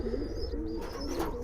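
Pigeons coo in low, rolling murmurs, a close and steady run of throaty calls with faint higher chirps above, from a pair of high-quality Pall line breed pigeons kept with their young.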